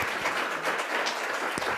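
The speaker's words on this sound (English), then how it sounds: "One more round of applause for them, please." Audience applause following morning medical presentations on gut health at a winter clinics conference, a dense, steady patter of many hands at moderate level filling the short stretch.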